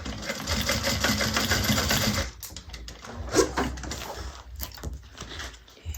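Sewing machine stitching steadily as it bastes handles onto a vinyl bag, a continuous close mechanical whir that stops after about two seconds, followed by quieter handling and rustling.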